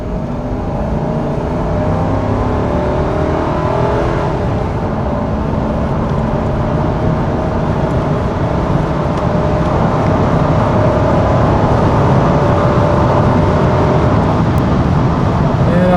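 A 1995 Ford Crown Victoria engine roars loudly and continuously under full-throttle acceleration, a deep rumbling drone with a slowly rising tone and road noise throughout.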